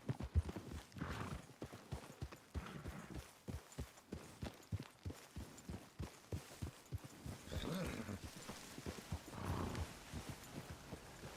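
Horses gallop in Red Dead Redemption 2, loud rhythmic hoofbeats pounding in quick succession with occasional neighing, close by and without talk.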